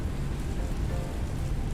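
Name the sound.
rain clanking on airliner fuselage, Microsoft Flight Simulator video game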